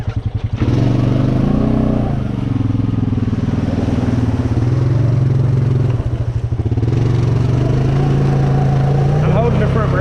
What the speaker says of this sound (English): I'm holding the front brake. I want to spin the tires.